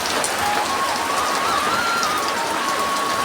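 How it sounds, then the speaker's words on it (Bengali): Heavy rain pours down outside a home in a constant, loud, even roar of water that continues unbroken from start to finish. "কত জোরে ঝমঝম করে বৃষ্টি নেমে গেছে"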